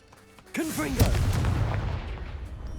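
A Confringo spell blast in Hogwarts Legacy sounds as a sudden loud fiery boom, preceded by a short rising magical whoosh, then a rumbling, crackling decay that fades over a couple of seconds.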